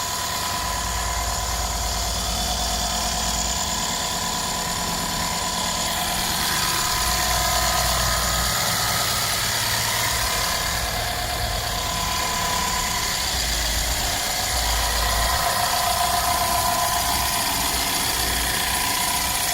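A 2016 Mercedes-Benz GL550 4Matic with a twin-turbo V8 idles steadily with its hood open, a smooth low hum with faint mechanical ticking, heard alone without talk.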